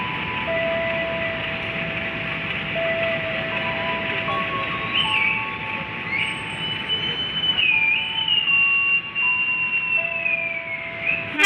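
Train in motion on the KA Motis Nataru motorcycle-carrying service between Purwokerto and Pasar Senen, a steady rumbling roar with long drawn-out wheel squeals and whines rising over it.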